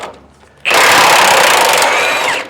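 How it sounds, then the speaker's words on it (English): Impact wrench loosening transmission bolts on a Ford Ranger, one loud sustained rattling hammering burst of about two seconds, close and alone after a quiet start. "I'm just trying to figure out how to get an impact in there."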